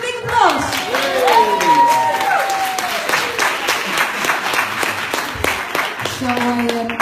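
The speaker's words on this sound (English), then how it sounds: "Give a big applause!" Audience applause at a Jaywick talent show, with steady clapping throughout and voices cheering and calling out over it, and a brief melodic voice near the end.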